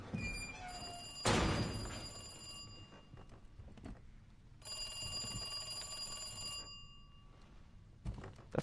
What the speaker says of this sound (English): That's called a rotary phone, kids.